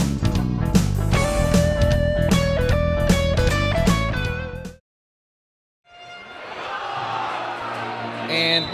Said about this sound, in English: the pep band got the crowd fired up